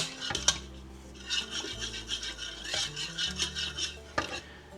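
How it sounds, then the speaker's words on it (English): Coconut oil being stirred into a bread mixture for cinnamon swirl bread, a utensil scraping and rubbing around a bowl in irregular strokes, fairly close and moderately loud with no talking. "We'll just mix this up real good."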